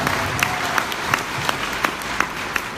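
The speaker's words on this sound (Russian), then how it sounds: "Давайте поаплодируем. Я оценю аплодисментами вашими." An audience at a self-improvement seminar applauds in a steady wash of clapping, with sharper, evenly spaced rhythmic claps standing out above it, at a moderate distance.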